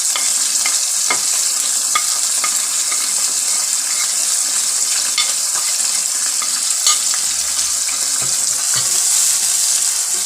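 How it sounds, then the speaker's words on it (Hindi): Spices roasting in hot oil for chana fry dal, a loud, steady close-up sizzle with repeated light stirring scrapes and small taps throughout, no one speaking. "मसाले को अच्छी तरह भून लेंगे।"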